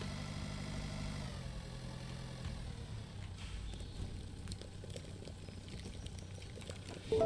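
A tractor in the Pure Farming 2018 farming game hauls a full trailer, its engine holding a steady, loud, low droning hum throughout with no pauses or talk.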